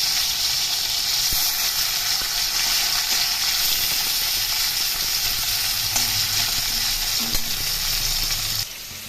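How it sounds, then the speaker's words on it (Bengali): Steady, loud crackling sizzle of hilsa fish frying in hot oil, continuous throughout with a few faint clinks, dropping slightly at the very end. "এদিকে আমি মাছ ভেজে নিচ্ছি একটু ভাজা হয়ে গেছে উল্টে দেবো"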